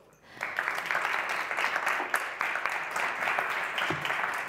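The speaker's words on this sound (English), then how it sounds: "A big applause." Audience applause at an awards launch event at a science park, clapping swelling in quickly and holding as a steady, fairly loud wash for several seconds.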